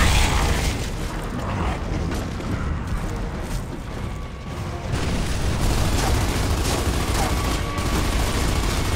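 Dense gunfire and explosions from Gears of War: Judgment, a continuous loud wash of rapid shots and blasts with a brief dip midway, no clear voices over it.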